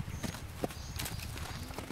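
Steady clip-clop of a calm overo horse's hooves at a relaxed walking pace, fairly close, with faint outdoor background noise.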